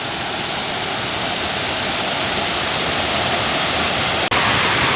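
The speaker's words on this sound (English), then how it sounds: "This is Oneida Falls at 13 feet." The 13-foot Oneida Falls waterfall in a Pennsylvania state park roars as a loud, continuous broadband rush of falling water, steady throughout with one brief dropout near the end.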